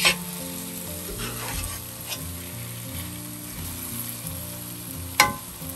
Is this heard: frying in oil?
yes